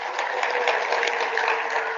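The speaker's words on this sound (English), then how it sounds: "Let us give a round of applause to the speaker." Audience applause at a hybrid LGBTQIA+ symposium, a steady dense wash of clapping from a crowd that holds evenly through the whole stretch without any voices over it.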